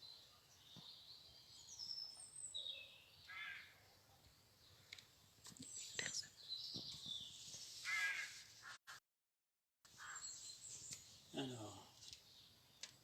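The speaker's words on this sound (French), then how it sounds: "On a réservé les petits oiseaux encore aujourd'hui." Small birds chirp and caw in scattered, faint bursts, mixed with quiet talk. A short silent gap breaks the sound before the calls resume.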